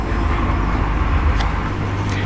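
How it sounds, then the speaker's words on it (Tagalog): Steady roadside traffic noise with cars and other vehicles passing close by, a continuous loud rumble with slight swells as they go past, beside someone building a simple 450-volt fish shocker. "Pasensya na kayo mga master, medyo maingay dito. Marami kasing dumadaan dito na sasakyan."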